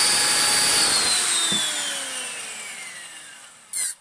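Bosch hand mixer motor, being tested after a repair, whining loudly at first and then winding down with a falling pitch, ending in a short sharp click or rattle.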